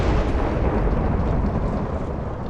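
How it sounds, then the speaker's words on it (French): An electric grenade detonating in Minecraft, a loud, deep rumbling blast that fills the whole short stretch with sustained booming roar and no talk over it. "On commence par l'électrique grenade."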